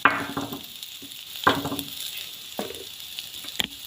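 Curry leaves crackle and sizzle in hot oil, with a steady frying hiss broken by sharp pops and spattering bursts every second or so, close and fairly quiet, with no talking.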